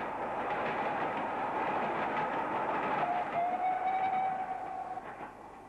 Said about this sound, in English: on the main line a Castle steams by on the London